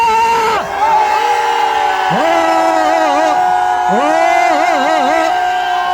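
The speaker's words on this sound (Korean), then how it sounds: "함성 30초 발사!" A crowd at a press conference shouts and cheers loudly and continuously, with long sustained yells and whoops rising and falling in pitch.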